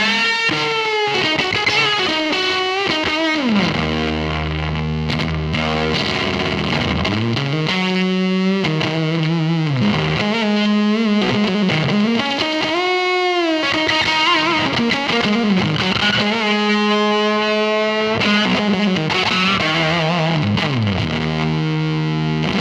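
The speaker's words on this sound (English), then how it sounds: "there it is, the absolute filth that the Fuzz Face is known for" A Fuzz Face fuzz pedal through a slightly overdriven amp, with thick, filthy distorted electric guitar playing sliding bends and chords, loud and continuous with heavy background noise and no talking.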